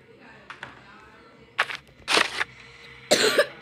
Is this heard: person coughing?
yes